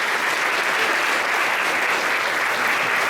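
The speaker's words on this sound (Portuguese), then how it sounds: "dando uma linda salva de palmas ao nosso Deus em nome de Jesus" A church congregation applauds during a worship service, a dense, sustained wash of many hands clapping at steady loudness from start to end, with faint crowd murmur underneath.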